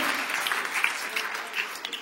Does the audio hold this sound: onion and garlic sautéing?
no